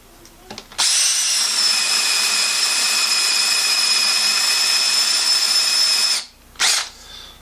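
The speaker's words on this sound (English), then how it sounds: "This is my Makita with the 5/8 inch bit." A Makita power drill with a 5/8 inch bit whirs steadily at high pitch for about five seconds as it bores into African mahogany, stops, then gives a brief second burst.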